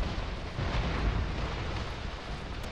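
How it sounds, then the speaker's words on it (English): Heavy artillery fire and explosions rumble continuously in the Iron Harvest strategy video game, a dense, booming low roar of blasts layered over one another throughout. "We're taking artillery fire."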